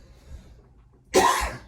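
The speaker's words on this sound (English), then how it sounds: "Sorry for all the coughing, ladies and gentlemen." A single sharp, loud cough from a man with a throat tickle breaks a quiet pause, close to the microphone.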